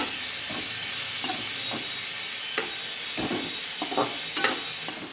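Ridge gourd sabzi is stirred as it fries in a pan, giving a steady close sizzling hiss with repeated spatula scrapes and taps throughout and no talking.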